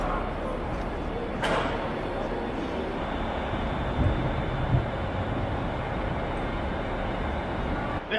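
Steady low rumble of a train at a Glasgow station platform, with a brief sharp squeal early on and faint clanks, no one speaking.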